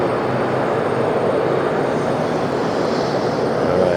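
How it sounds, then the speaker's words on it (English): A jet airliner engine spools up at JFK airport, a steady, loud broadband roar of rushing air and engine noise that swells slightly toward the end, with no voices. "The introduction of fuel into the engine there."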